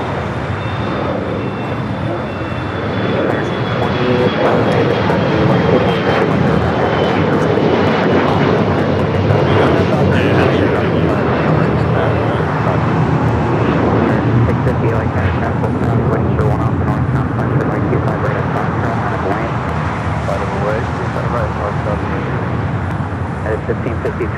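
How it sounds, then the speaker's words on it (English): Dreamliner jet departing from the south side of LAX airport, a loud sustained engine roar that holds steady throughout, with voices talking underneath. "Who's excited for this Dreamliner departure here on the south side?"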